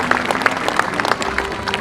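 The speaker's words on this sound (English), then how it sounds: "let's give another round of applause for Kalia." Audience at SeaWorld San Diego applauding after killer whale Kalia's show, a lively crowd clapping steadily at moderate distance, with some faint voices mixed in.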